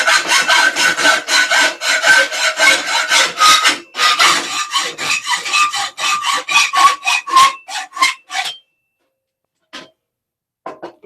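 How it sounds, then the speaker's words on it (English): Hacksaw cutting a small piece off a hidden blade prop part at a workbench, with steady rhythmic back-and-forth strokes, loud and close, that stop at about 8.5 seconds, followed by a few faint scattered knocks. "Use a hacksaw to cut this a little bit off here."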